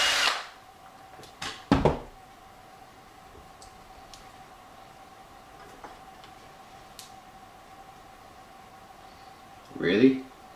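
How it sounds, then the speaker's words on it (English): A power drill whirs in a couple of short bursts near the start, then a long quiet stretch before another brief buzz at the end. "I'll get the drill and we'll be right back"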